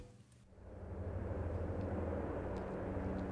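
An airplane passes overhead above a disc golf course, a low broad rumble swelling in and holding steady, distant but filling the background.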